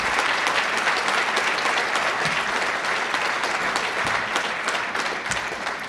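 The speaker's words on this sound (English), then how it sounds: "I'd like to give them all a round of applause," Sustained applause from a football hall of fame induction audience for the coaching staff, a thick, even wash of many hands clapping throughout and easing slightly at the close.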